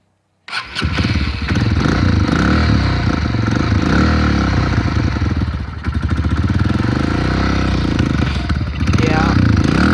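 A Honda CRF125F dirt bike is cold-started on half choke: the engine catches almost at once and runs loud and close for the rest of the clip, roughly and unevenly, with a brief dip midway as it struggles to hold an idle.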